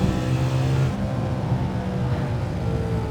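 A supercharged BMW E92 M3 with the S65 V8 pulls hard through third gear, a loud continuous high-revving engine roar heard from inside the car, with a brief shift in tone near the start.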